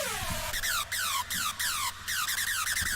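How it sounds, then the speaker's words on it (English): Thin, undetuned raw hardstyle screech lead from FL Studio with no pitch automation, a series of loud bright sweeping notes repeating in quick rhythmic bursts with brief gaps between them, playing alone without any voice. "And another thing that's really important is this pitch automation"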